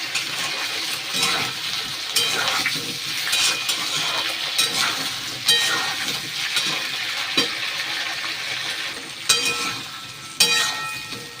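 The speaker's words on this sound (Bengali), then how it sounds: "এবার এই তেলে পেঁপে আলুগুলো দিয়ে দিই।" Diced papaya and potatoes go into hot oil with whole cumin after fish frying, giving a steady close sizzle with scattered clinks and stirring scrapes throughout.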